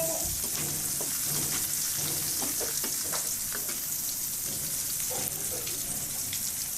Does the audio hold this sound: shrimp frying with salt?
yes